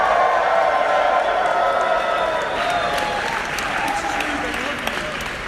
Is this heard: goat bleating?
no